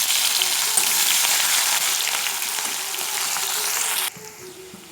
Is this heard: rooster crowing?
no